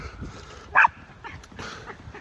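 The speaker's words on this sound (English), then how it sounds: "So that's my dog making noise there." A dog gives a brief yip or whimper near the middle, moderately loud and close, set against a quiet room background.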